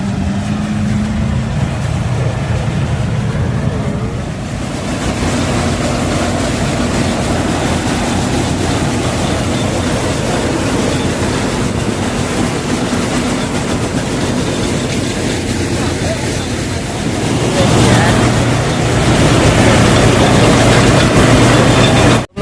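A tractor-driven thresher runs while threshing peas, a loud, steady mechanical roar with rattling and clattering that holds for over twenty seconds, swelling slightly near the end, with no voices.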